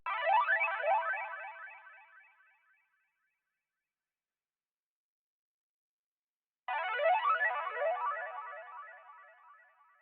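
Psychedelic spaceship-like accent one-shot sample, a buzzing, warbling synthetic burst that fades out over a couple of seconds, then repeats after a gap of silence, heard alone and fairly faint.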